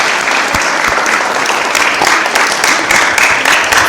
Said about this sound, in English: I just want to give our parents a round of applause for these young ladies.